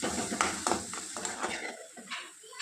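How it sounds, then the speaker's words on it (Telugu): Onion pieces and a bay leaf fry in a little oil in a pan for a home chicken masala curry, with steady faint sizzling broken by several soft utensil scrapes and stirring knocks. "ఒక ప్యాన్ తీసుకొని కొద్దిగా ఆయిల్ వేసుకోవాలి. అలాగే ఉల్లిపాయ ముక్కలు కూడా వేసుకోవాలి."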